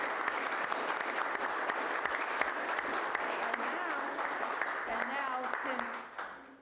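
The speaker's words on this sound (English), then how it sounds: "Round of applause, please." Attendees at a town board meeting give a round of applause, steady clapping from a room of people with voices speaking over it before the applause fades out at the end.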